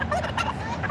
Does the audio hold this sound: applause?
no